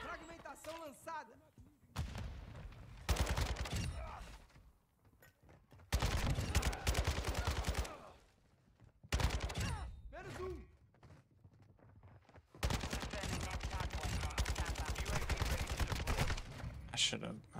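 Bursts of RPK machine gun fire in Modern Warfare 2 multiplayer, loud rapid automatic volleys in several separate strings with short quiet gaps between, muffled thuds and a voice talking faintly underneath.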